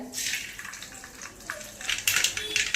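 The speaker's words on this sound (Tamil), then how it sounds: "கடுகு ஜீரகம் பொரிஞ்சிருச்சுங்க" Mustard and cumin seeds spluttering and crackling in hot oil in a kadai while tempering for tiffin sambar, a dense stream of close, sizzling pops that grows louder and busier toward the end.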